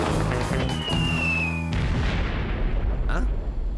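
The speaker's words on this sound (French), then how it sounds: "Encore une explosion." A loud cartoonish boom with a descending whistle, then a crashing explosive burst, heavy and dense with background music or noise throughout, from a Lucky Luke Daltons cartoon.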